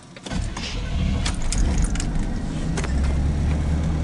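Car driving along with a steady engine and road rumble that builds and holds, loud and close, with keys jangling at the start.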